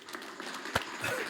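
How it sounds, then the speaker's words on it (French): Brief applause, a short burst of scattered clapping from a small group, fairly faint. "applaudissements"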